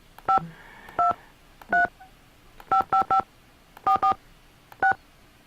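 Car phone keypad tones in the video game Nancy Drew: Secret of the Scarlet Hand beep out a number: a single tone, then pairs and a triple run, each short, clean and evenly spaced.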